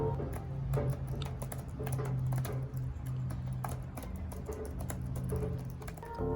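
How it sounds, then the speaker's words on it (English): Steady, fast typing on the keyboard of an Acer Nitro 5 AN515-55 budget gaming laptop, a dense patter of light key clicks heard close up and alone, with a low hum behind it. "here is how the keyboard sounds when you type"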